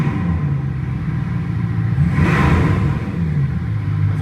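A cold Bugatti Chiron Sport with matte black carbon bodywork revs in a showroom, a steady loud rumbling engine note swelling into one stronger rev midway, then settling back to a throaty idle.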